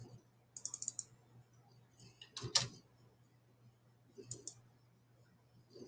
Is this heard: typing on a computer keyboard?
yes